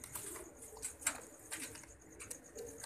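Faint pigeons coo softly against a hissy background with scattered chirps, quiet and somewhat distant.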